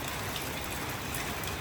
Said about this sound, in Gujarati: કેટલો વરસાદ આવે છે